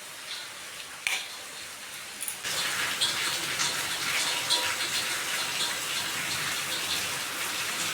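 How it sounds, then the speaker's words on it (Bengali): Heavy rain pouring down at a home, starting as a softer patter and then swelling into a loud, continuous gushing downpour close by that keeps up steadily to the end. "এত বৃষ্টি পড়ছে"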